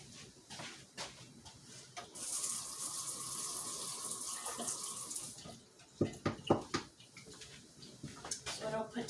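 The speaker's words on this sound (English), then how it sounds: "Now, let me rinse off my spatula." A kitchen tap runs for a few seconds as a spatula is rinsed in the sink, followed by clattering of the utensil and dishes nearby.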